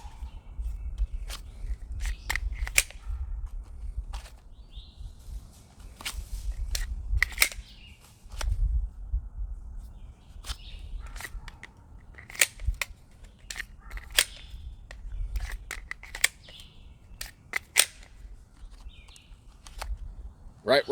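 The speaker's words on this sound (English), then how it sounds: "We're gonna practice some admin reloads" Handgun magazines being swapped and seated during dry fire practice: a steady run of sharp clicks and clacks, some in quick pairs, with soft handling noise and occasional quiet talk, fairly close.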